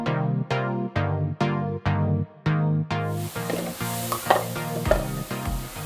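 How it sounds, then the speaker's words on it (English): A rhythmic series of sharp percussive knocks gives way to steady sizzling and stirring as Ethiopian dried meat (kwanta) fries in a pan, with occasional louder scrapes. "We'll add it to the frying pan."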